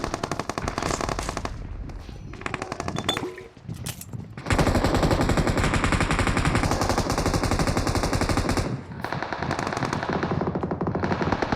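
Rapid automatic gunfire from a shooting video game, long dense bursts of machine gun shots with a short lull around four seconds, loud and close throughout, with no talking over them.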